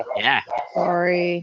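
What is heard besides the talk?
dog barking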